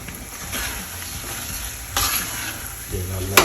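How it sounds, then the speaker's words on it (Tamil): Prawns for a pepper masala stirred in a pan with sautéed onions, a continuous close sizzle with scraping spatula strokes and a louder clank at the end. "நல்லா கிண்டி விடுவோம்."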